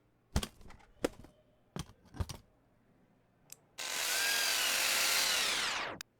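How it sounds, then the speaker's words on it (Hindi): A power drill bores into a marked spot: several sharp taps come first, then a loud continuous whir runs for about two seconds and cuts off abruptly. "जहाँ पर मैंने मार्क किया है वहाँ पर अच्छे से ड्रिल कर दो"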